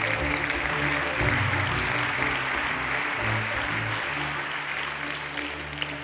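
Applause at the Girona 2020 literary awards after the Ramon Muntaner prize is presented, a broad, steady wash of clapping from the audience over a low tonal hum, with no voices above it.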